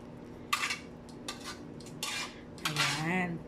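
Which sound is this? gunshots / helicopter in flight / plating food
plating food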